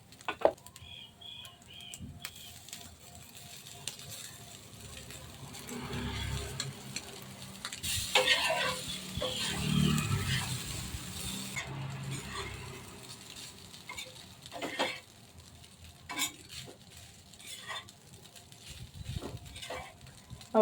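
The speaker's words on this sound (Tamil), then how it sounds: "இப்போ இதோட நம்ம சாதம் மிக்ஸ் பண்ணிக்கலாம்." Rice being mixed into cooked egg on a hot tava, with steady stirring scrapes and a soft sizzle running throughout, louder in the middle stretch.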